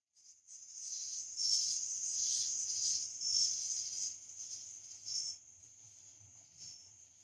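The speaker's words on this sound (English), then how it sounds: "they've got the cicada sounds, the water lapping, just layers and layers" A steady, high, shrill buzz of cicadas drones on continuously, with faint soft low rustling of lapping water underneath; no voices.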